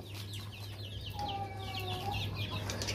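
Hens clucking near a broken cage door, several birds giving repeated short clucks and drawn-out tonal calls, close and clear over a steady low electrical hum, with no talk.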